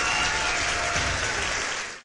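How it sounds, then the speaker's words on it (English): A crowd cheers and applauds in an animated horror story, a dense, loud, steady roar of clapping and voices that holds for about two seconds before quickly cutting off. "The crowd went"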